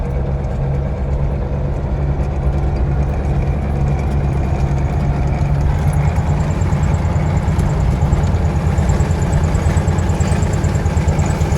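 An old tractor engine fitted with a new starter and a new battery idles steadily and loudly, a continuous low rumble with no talk over it.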